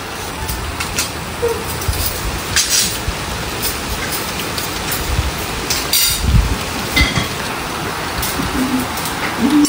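Rain falls steadily outside a window as strong wind blows, a broad continuous hiss with scattered louder gusts and patters throughout, no voices heard.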